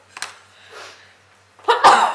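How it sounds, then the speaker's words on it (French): A short breathy intake followed by one sharp, loud sneeze close to the microphone. "Attention, je vais éternuer."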